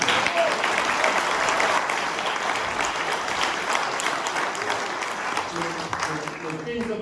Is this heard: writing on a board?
no